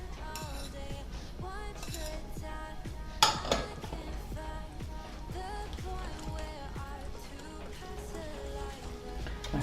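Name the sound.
mixing gluten-free cocoa crêpe batter with eggs in a bowl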